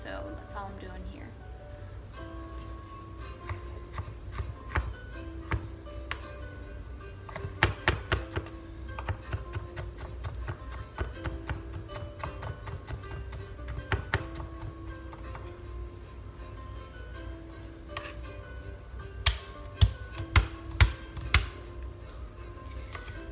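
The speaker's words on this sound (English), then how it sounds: "now I'm just chopping some garlic and fresh ginger for the fish" Knife chopping garlic and fresh ginger on a cutting board, sharp irregular taps coming in quick bursts and scattered single strikes, close by, while someone talks throughout.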